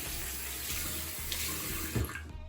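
Faucet water running into a bathroom sink while a face is washed, a soft continuous splash with small splatters and one brief louder slosh near the end.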